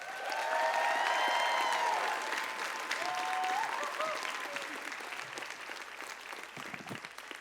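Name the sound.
audience applause for an introduced speaker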